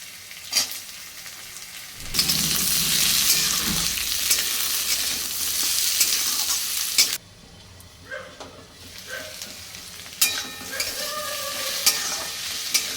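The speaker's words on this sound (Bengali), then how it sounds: "আলু আর পেঁয়াজটা একটু ভাজা ভাজা হয়েছে" Potatoes and onions sizzle and fry loudly in a pan, with stirring scrapes; the sizzle drops off midway, then resumes with a dog barking faintly.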